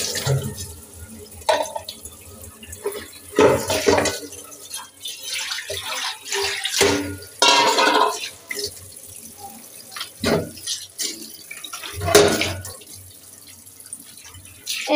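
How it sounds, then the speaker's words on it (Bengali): Dishes scrubbed with Vim being rinsed under a running kitchen tap, with irregular bursts of splashing water, drips and clinks of plates and utensils, close and intermittent, brief speech nearby. "থালা বাসন ধুয়ে নিচ্ছে।"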